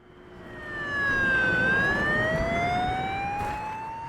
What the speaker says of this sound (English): I hear sirens coming from outside